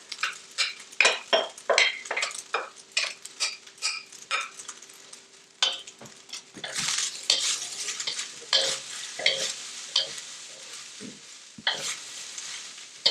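Vegetables and fried rice stir-fry in a hot pan on a turned-off burner, with repeated rhythmic scraping tosses, metallic clinks and a soft sizzle between strokes, close and alone.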